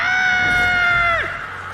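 A woman screams in a film, a long, loud, piercing shriek held steadily before it breaks off and trails downward.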